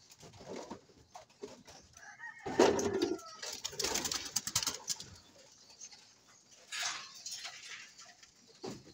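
A pigeon coos softly at close range amid rustling and faint background noise, the low rolling calls rising and falling over several seconds.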